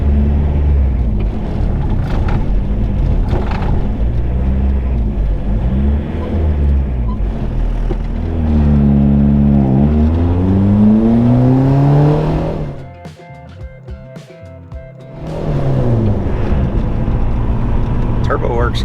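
Turbocharged small car with a manual transmission missing second and fourth gears, engine revving and accelerating through gears with rising and falling pitch, loud and close, with a brief lull before the engine picks up again; someone talks over it.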